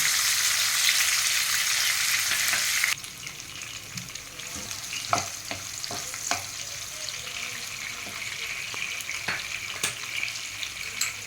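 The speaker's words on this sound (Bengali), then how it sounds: "এটা আস্তে আস্তে ভাজতে হবে, একটু ভাজুক" Food for a vegetarian paneer dish fries slowly in a pan, first as a loud dense sizzle, then settling into a steady gentle crackle marked by scattered scrapes of stirring.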